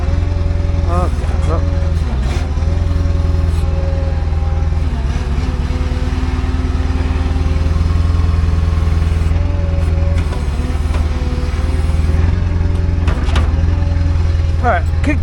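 A tow truck engine idles loudly and steadily close by, a continuous low rumble running the whole time while people talk over it.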